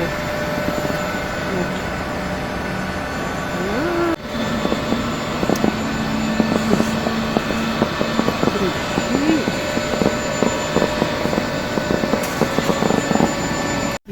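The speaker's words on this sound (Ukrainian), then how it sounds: "Це наш літак." A passenger airplane's engines roar loudly and steadily at an airport in the evening, a close continuous drone with some clicks and rattles, while people talk nearby.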